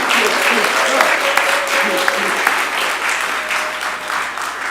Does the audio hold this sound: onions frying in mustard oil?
no